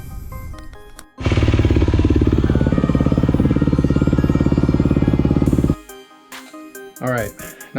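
A Yamaha WR250R motorcycle engine starts and idles after an oil change, a loud steady rapid thumping that runs for about four and a half seconds before cutting off, followed by faint clicks and handling noises.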